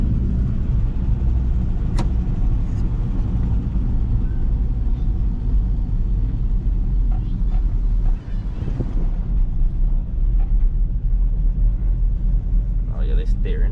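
The engine of a rusty, dented 1988 Dodge Power Ram truck with a cheap knockoff Edelbrock intake runs with a deep, steady rumble, mixed with wind buffeting on the microphone and a few brief louder bursts.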